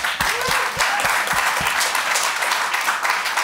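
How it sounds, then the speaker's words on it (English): A live audience applauds in a thick, continuous burst of clapping, with a few dull thumps early on, loud and close with no speech over it. "Clap it up for Daniel, y'all"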